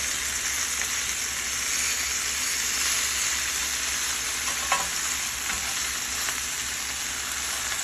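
Chicken thighs sizzle steadily in a pan on a stove top, with a dense, even frying hiss and a few faint scrapes as the pieces are moved around.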